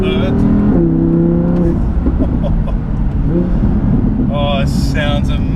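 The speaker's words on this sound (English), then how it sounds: "downshift into third" A rear-wheel-drive Audi R8 V10 on 20-inch wheels downshifts into third on an open highway. Loud engine revs rise and fall in pitch over a continuous road roar, close and strong throughout.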